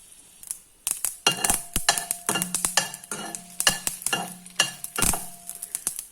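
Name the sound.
mustard seeds popping in hot oil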